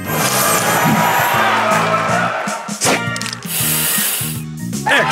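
A spray booster effect from the mobile puzzle game Match Masters gives a loud hissing spray burst over bright musical game tones, with cheering-like effects and a short break midway before the spray resumes.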